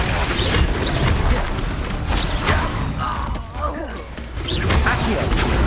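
Confringo fire spell explosions go off in combat in Hogwarts Legacy on PC: loud, booming blasts and crashing impacts layered over continuous battle noise, with a voice speaking over them.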